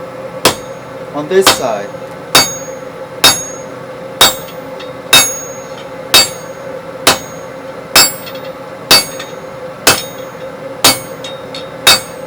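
Hot steel is hammer-forged into box jaw tongs, with about fourteen sharp, ringing hammer blows struck at a steady, even pace close by, plus a short spoken remark early on.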